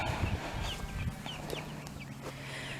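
Small flock of turkeys kept in a hoop house pen on a farm, clucking softly with faint scattered calls over a low, steady outdoor background.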